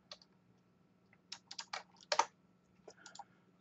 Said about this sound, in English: So, okay, I do it like new folder. I name it like Batman